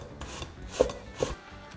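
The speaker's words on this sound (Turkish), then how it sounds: "rendenin ince tarafıyla kabaklarımızı rendeliyoruz" Zucchini rubbed against the fine side of a kitchen grater, a few soft raspy strokes in quick succession, close and fairly quiet.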